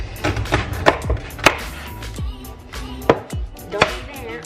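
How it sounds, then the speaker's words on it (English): Asparagus spears being snapped by hand, a series of about seven crisp, sharp cracks spaced irregularly, heard close up in a kitchen. "ends of the asparagus, all I'm gonna do is just snap it"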